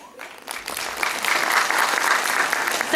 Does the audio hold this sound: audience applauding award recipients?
yes